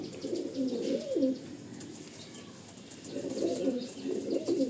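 Pair of Andhra pigeons cooing in a loft, soft low rolling coos in two bursts with a quieter pause between, close and clear with no voices.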